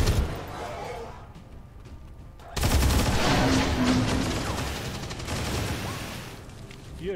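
Gunfire in XCOM 2: War of the Chosen erupts suddenly after a quiet lull, a dense loud volley of shots and impacts that trails off into a lingering rumble.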